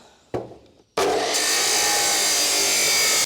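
An angle grinder's cutting disc bites into a metal turbo pipe bend with a loud, continuous, harsh screech that starts abruptly after a brief knock and holds steady, close by.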